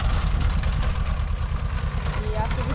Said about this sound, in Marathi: ट्रॅक्टर चालू करून जोडायचं